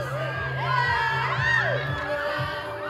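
Crowd cheering and shouting at a live stage show during a song performance, a loud, sustained mass of voices with rising whoops, over a low steady musical drone.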